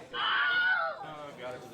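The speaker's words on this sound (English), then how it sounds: "That feels like a Wilhelm scream-worthy death." A Wilhelm-style scream sound effect for a death during a Warmachine tabletop game, one loud drawn-out falling cry lasting about a second, then trailing off into quieter voices.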